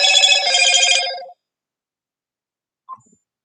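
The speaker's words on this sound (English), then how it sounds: "That's one of my cell phones going off." A cell phone ringing during a live stream, a bright electronic warbling ring lasting just over a second, then silence and a brief faint beep as it is shut off.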